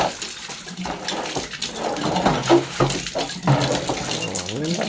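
A hand water pump splashes gushing water out in uneven bursts into a basin, loud and close, with voices talking over the pouring.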